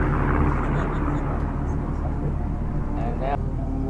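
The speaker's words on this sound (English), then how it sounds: "now you can hear the jockeying of the throttle there" Aircraft engines in a display formation drone steadily with a low, dense rumble while the throttle is eased back and forth, under continuous talk throughout.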